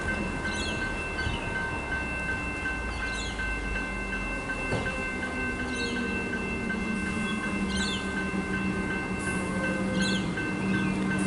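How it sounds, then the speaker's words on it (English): A suburban electric train on a Sandringham line service at Ripponlea, Melbourne, runs along steadily, with a sustained motor hum and tonal whine, periodic clicks and squeals of wheels over the rails, moderately close. "This will be the last train in the video."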